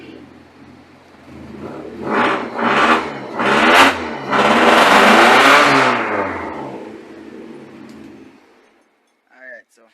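A 1997 Mitsubishi Lancer engine cranks over and catches, then revs up in loud rising surges that peak and settle back to a steady idle, with a brief voice near the end.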